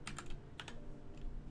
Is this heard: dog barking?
no